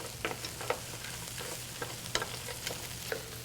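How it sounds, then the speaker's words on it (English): Lobster shells sizzle in butter with mirepoix in a pan, giving a steady close frying hiss broken by repeated sharp scraping stir clicks. The level stays moderate throughout, with no talking. "It's just the concept of cooking in a pan with mirepoix and some fat like butter"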